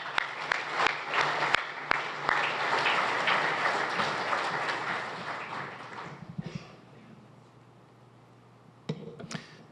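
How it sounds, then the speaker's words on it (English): Conference audience applauds actors at a morning general session, a dense wash of clapping with a few sharp nearby claps that fades out around six seconds, leaving a quiet room with a faint hum. "How about one more round of applause for our actors this morning?"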